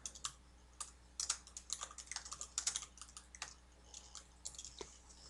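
Keys clatter on a computer keyboard as a comment is typed, with quick, irregular bursts of close, soft clicks and brief pauses between them, no voices.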